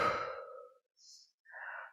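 Slow breathing during a plus-size pancake straddle stretch: one long, audible exhale followed by two shorter, softer breaths, close and quiet with no talking.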